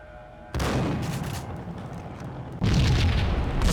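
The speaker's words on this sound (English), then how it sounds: "The whole building was rigged with explosives." A building rigged with explosives blows up in the Max Payne video game: a loud, deep booming blast that rumbles on, then a second heavier detonation swells near the end, with no talking.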